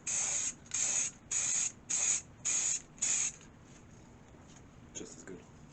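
Short bursts from a spray paint can laying a final coat on PC parts, six even hissing puffs in a steady rhythm, close and loud, then quiet with a faint rustle near the end.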